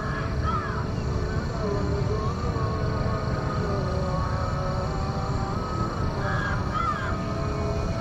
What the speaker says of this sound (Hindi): कौवे ज़्यादा दिख रहे हैं यहाँ पे।